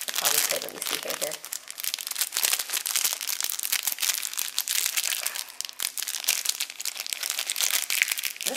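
Plastic packaging around a sushi keychain crinkles and crackles continuously and close, loud and dense for several seconds, with brief speech near the start.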